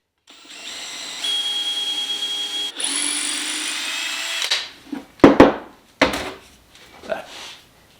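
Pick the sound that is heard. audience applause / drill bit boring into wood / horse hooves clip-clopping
drill bit boring into wood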